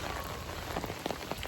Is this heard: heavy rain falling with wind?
yes